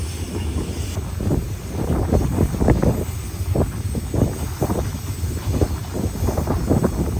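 A 3 km long iron ore train rolling past in the Mauritanian desert, a loud continuous rumble with repeated clanking wagon impacts and wind buffeting the microphone.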